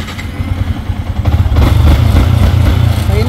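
A Yamaha Sniper 150 motorcycle engine turns over after a starter push-button repair, cranking briefly and then catching into a loud, steady, close-up rumble that holds to the end.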